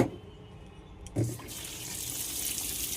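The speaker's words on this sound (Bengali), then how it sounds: "ওইদিকে জলটা চালিয়ে দিয়ে আসি" A water tap is turned on and runs steadily, a constant gushing hiss that begins after a brief click and continues at a moderate level.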